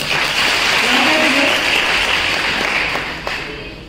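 A classroom of students applauds together, a dense and steady burst of clapping that fills the room, then gradually thins and fades toward the end.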